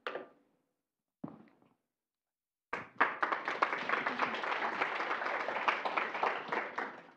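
A conference audience at a medical talk on mechanical circulatory support applauds, with a few isolated claps first and then a sustained burst of dense clapping that fills the room.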